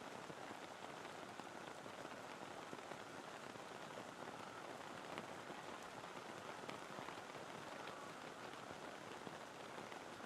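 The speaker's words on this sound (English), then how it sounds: "This rain is relentless, ladies and gents. It's just coming back in sideways now." Heavy, wind-driven rain pouring down during a first-grade rugby league match at Coffs Harbour, a constant hiss of drops striking surfaces, steady and unbroken, with no voices.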